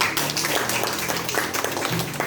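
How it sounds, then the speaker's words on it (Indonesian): A classroom of pupils claps together during a lesson, giving a short burst of fairly close, busy applause that holds steady for a couple of seconds. "Kita kasih tepuk tangan dulu."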